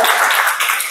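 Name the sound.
audience clapping at an anniversary celebration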